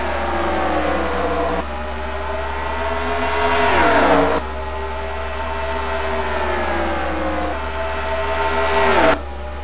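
Video game race cars rev and accelerate together as the field restarts behind the pace car at Eldora, a steady loud engine drone with rising pitch sweeps and abrupt gear-change drops throughout.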